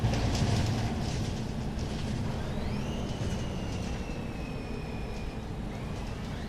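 An articulated MAN bus drives along a narrow, rough village road in the Omsi 2 driving simulator, giving a steady loud engine and rolling rumble, with a rising then level whine as it moves.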